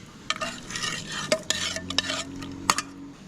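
Soft stirring with light metallic clinks and taps of a spoon against a container, close and quiet, uneven in rhythm.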